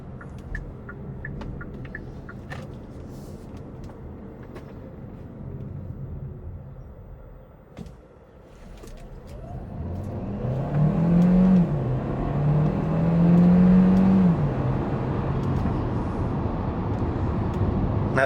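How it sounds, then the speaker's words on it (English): A 2023 Kia Sportage Hybrid EX AWD engine rises from a low steady cabin hum into a louder surging whir and rumble under hard acceleration, climbing in pitch as it pulls, with no talk over it. "So see what it sounds like with basically with a lot of acceleration,"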